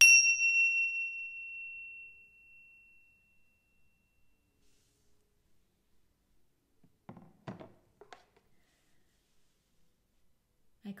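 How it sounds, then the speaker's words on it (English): A small ritual bell rings once at the start and its bright tone fades over about two seconds, followed by long silence and a few faint knocks and thuds. "I'm going to ring my bells just to symbolize it's opened"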